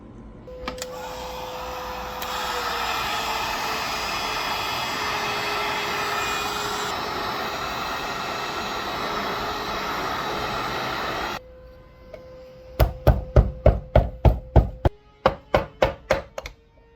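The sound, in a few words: heat gun heating motorcycle engine case cover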